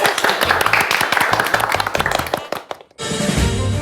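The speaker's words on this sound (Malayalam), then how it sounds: "കൈയടി." Studio audience applause on a Malayalam television comedy show, a dense burst of clapping that swells, cuts off briefly near the end, then resumes loudly.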